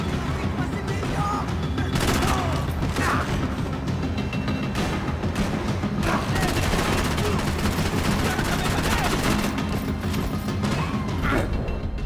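Dense continuous gunfire from the action game Max Payne 3, loud rapid shots and bursts layered with crashes and impacts, relentless for the whole stretch, no talk over it.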